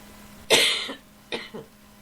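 A person coughs twice, close and clear: one harsh cough, then a shorter double cough after a brief pause.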